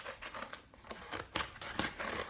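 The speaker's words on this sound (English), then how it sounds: "So you're going to take your cardboard and cut out some shapes." Scissors cut geometric shapes out of heavy cardboard, making a run of close, quiet snipping and rasping crunches in an irregular rhythm, with no voices.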